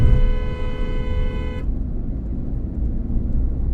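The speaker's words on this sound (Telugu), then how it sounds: "ఎవడో హార్న్ కొడుతూనే ఉన్నాడు కదా" A vehicle horn blares in a single loud, sustained honk for a second and a half, then cuts off, leaving the low rumble of nearby road traffic.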